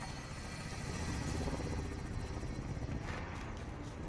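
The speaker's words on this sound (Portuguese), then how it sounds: "Ó, tem helicóptero." A helicopter in the video game Call of Duty Warzone makes a continuous rhythmic rotor thump and turbine whine, close and steady throughout, dominating the game mix.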